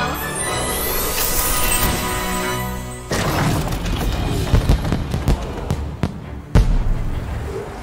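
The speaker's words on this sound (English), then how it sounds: "Oh, what lovely fireworks!" Fireworks going off in the Puppeteer video game, with a whistling launch and fizzing crackle at first, then a series of sharp pops and bangs scattered over a busy, crackling background.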